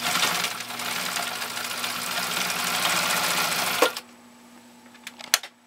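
A Husqvarna Viking 19E sewing machine stitches through eight layers of commercial upholstery material, a loud, steady, fast whirring chatter for about four seconds that stops abruptly, followed by a few faint clicks.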